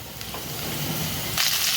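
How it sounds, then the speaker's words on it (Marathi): Chopped bell pepper sizzles in a hot pan while being sautéed for soybean chilli, a close, steady frying hiss that swells into a brighter burst near the end. "शिमला मिरची टाकून घेतली, ती 2 मिनटं परतून घेऊया"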